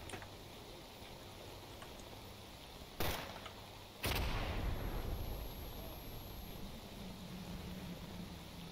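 A grenade launcher in STALKER Anomaly firing two sharp, heavy bursts about a second apart, the second followed by a rumbling blast tail over quiet ambient background.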